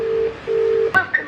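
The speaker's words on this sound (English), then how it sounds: "I'm just ringing to see how my parents are." Phone keypad dialing tones from a university student calling home, two long steady beeps followed by a click and short higher tones, loud and close.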